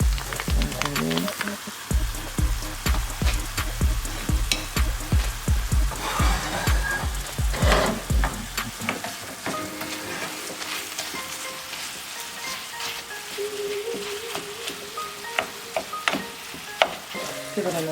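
Impossible plant-based beef and cooked vegetables fry in a pan for a vegan shepherd's pie, with steady sizzling under a run of rhythmic scraping and knocking strokes of stirring that ease off midway, close and fairly loud.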